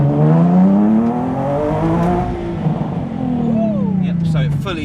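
Nissan 370Z Nismo with traction control switched off spinning its wheels, the engine revving high and steady with rising and falling pitch and a faint tire whine, close up, while people talk over it.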